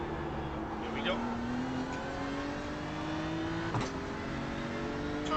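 A car on the Nürburgring race track accelerates after a downshift to second gear, its engine note rising steadily through a long, smooth pull, heard from inside the car at moderate loudness.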